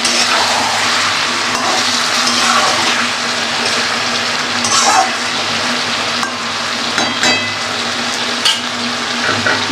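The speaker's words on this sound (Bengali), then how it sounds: "ভালো করে নেড়ে চেড়ে দিলাম।" Chicken curry with potatoes sizzles and fries in a pan while being stirred, a steady close crackle with occasional scraping clinks of the spoon.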